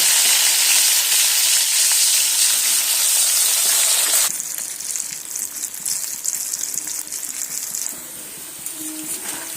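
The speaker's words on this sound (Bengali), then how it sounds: "এবার আমি আলুগুলো ভেজে নেব" Loud, dense sizzle of parboiled potatoes frying in hot oil, close up, easing slightly halfway through but continuing throughout.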